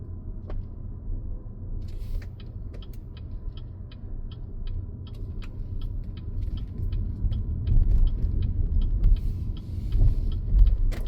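Inside a BYD Seal electric car driving through a city; a low, steady road rumble with muffled outside traffic noise, small creaks and ticks, swelling slightly louder toward the end, with no talking.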